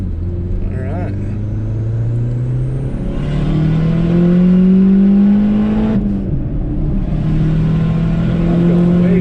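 A Saturn Ion Redline accelerates up close with a deep, loud engine drone that climbs in pitch through the gears, with a brief shift dip partway. People talk over the engine noise.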